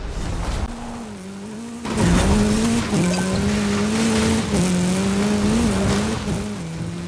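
Hoonigan RS200 in a racing video game, its engine droning with shifting revs while tires squeal and skid almost continuously, loud and close, rising sharply after a brief quieter opening.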